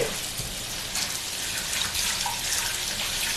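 Tap water runs steadily into a kitchen sink while something is rinsed under it, a close, continuous hiss of flowing water with no talking.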